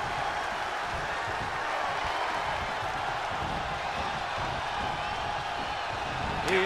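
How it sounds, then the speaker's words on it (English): Wrestling crowd at a tag-team match roaring loudly and continuously, a dense wall of cheering and shouting that swells near the end, with commentary voices mixed in. "The sound of this crowd is deafening"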